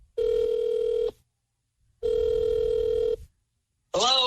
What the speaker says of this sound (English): Hey, Siri, call Derek Lee.